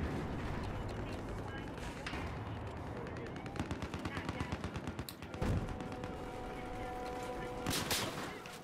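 Rapid bursts of automatic gunfire from a gun in Battlefield 4 on the Lancang Dam map, dense and continuous with heavier impacts and booms mixed in, over a busy in-game battle with voice chat underneath.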